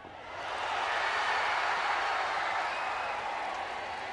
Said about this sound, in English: the crowd enjoying it and thinking that Rua had indeed scored